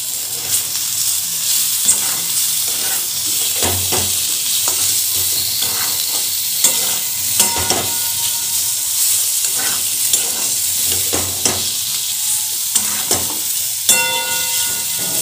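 Curry made with sugar, turmeric, salt and chili sizzles continuously in a hot pan, with a steady frying hiss and repeated scraping and tapping from stirring, loud and close throughout.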